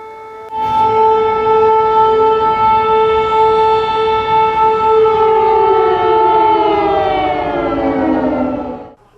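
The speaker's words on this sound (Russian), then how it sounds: "причиной включения сирены стал технический сбой" A civil defense warning siren in the Komi Republic wails loud and steady for about eight seconds, its sustained harmonic tone sliding gradually downward before it cuts off abruptly.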